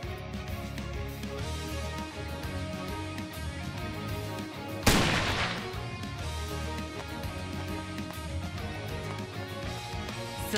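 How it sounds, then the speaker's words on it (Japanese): A single sniper shot in the StarWard video game, one sharp loud report with a brief decay, set against a dense, continuous backdrop of game music and effects. "狙撃開始。"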